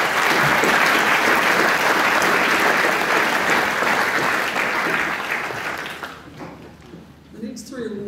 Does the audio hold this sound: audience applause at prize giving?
yes